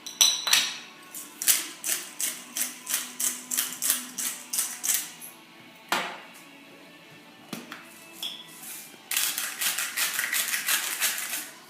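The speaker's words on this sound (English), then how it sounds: "Mix through and season to taste." Parsley and green shallots being mixed through a dish, heard as a run of quick, rhythmic clinks and scrapes of a utensil against the pan, close and fairly loud, pausing briefly before a denser burst of stirring.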